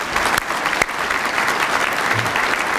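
A room full of people applauds in honour of Ted Crozier, a dense, steady clapping close by that carries on without a break.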